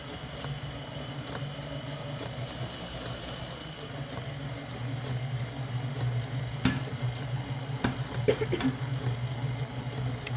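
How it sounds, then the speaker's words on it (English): An electric mixer hums steadily as it beats cookie dough while dry ingredients are added little by little, the motor drone rising slightly midway, with occasional clicks and knocks from the bowl. "we're going to fire up our mixer and we're going to slowly add our dry ingredients little by little"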